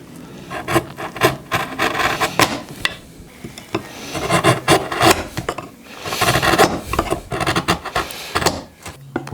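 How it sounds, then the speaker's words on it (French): Steel wood chisel paring out a mortise in wooden embroidery-frame parts, a run of close scraping, rasping cuts in uneven bursts with brief pauses between strokes. "Alors, moi, je le fais au ciseau à bois."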